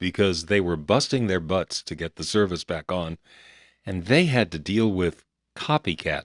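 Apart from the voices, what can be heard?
No everyday noises stand out.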